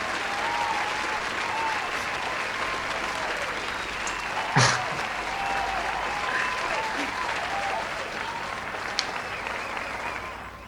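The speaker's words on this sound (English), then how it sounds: "Cheering doesn't stop. Cheering continues." An audience at a live comedy show keeps up sustained, dense applause and cheering for about ten seconds, loud and steady, with a single sharp louder clap or shout partway through.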